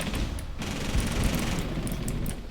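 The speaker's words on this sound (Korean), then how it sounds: "아, 야, 트위치도 자꾸 나 쏜다" Rapid automatic gunfire in Rainbow Six Siege ranked play, dense bursts of shots crackling close and loud for the whole stretch, with no talk over them.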